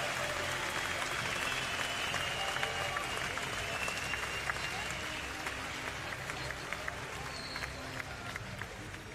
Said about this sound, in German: Bitte einen Applaus für beide Kämpfer